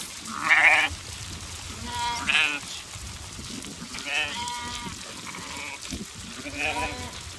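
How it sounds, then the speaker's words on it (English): Fat-tailed sheep bleat in a Georgian town, several separate wavering calls spaced a second or two apart, moderately close, with faint talk in the background. "See those fat-tailed sheep?"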